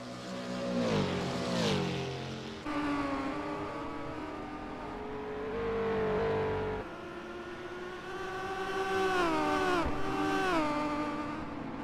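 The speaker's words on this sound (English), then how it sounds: "The angry bees that are the 2 litre cars flying by." Several 2-litre race cars in a racing video game buzz past one after another with high, angry engine whines that rise and fall as each approaches and recedes, with no talk.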